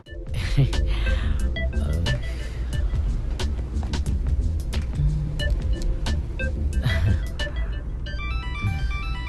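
A car pulls away and drives off. A steady engine hum runs throughout, with scattered tonal chimes and clicks on top and people talking nearby.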